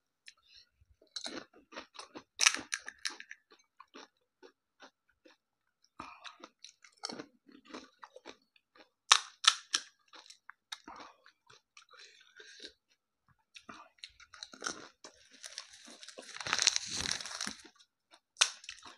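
Someone eats pani puri quickly, with close crunching and chewing bursts that come in irregular clusters over nearly twenty seconds, separated by short quiet gaps and growing denser toward the end.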